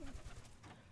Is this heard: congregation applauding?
no